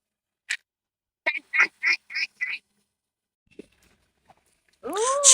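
Ducks near a path give a quick run of five or six close quacks, a lone faint call, then a loud drawn-out honking call at the end, with no talk over them.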